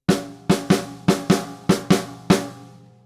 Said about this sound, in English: a whole bar would sound like this of heavily shuffled quavers